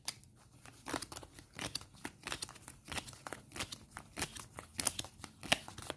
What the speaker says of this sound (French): je vais bien mélanger mon deck